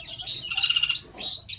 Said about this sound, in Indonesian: burung kutilang emas yang berada di aviary